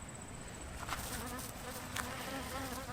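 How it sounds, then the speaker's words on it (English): A caught bee buzzes steadily and close up for about three seconds, a continuous insect drone with slight swells in loudness and no talking over it. "you catch that bee"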